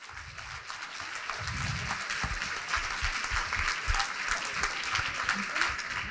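An audience applauds steadily, a dense patter of clapping that holds at an even, moderate level for several seconds.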